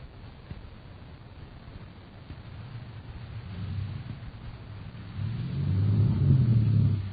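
A truck engine rumbles low and steady as a radio drama sound effect, staying moderate at first and then swelling louder and heavier toward the end, with no voices over it.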